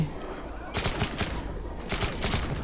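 Two sharp bursts of rapid automatic gunfire in the shooter game Call of Duty MW3 crackle up close, separated by a short gap, with someone talking in Thai alongside.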